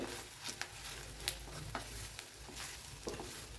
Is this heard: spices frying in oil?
yes